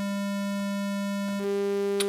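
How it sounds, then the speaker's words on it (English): A square-wave test tone from a signal generator buzzes steadily, harsh and rich in overtones, then shifts to a different tone partway through, with no voices. "square wave"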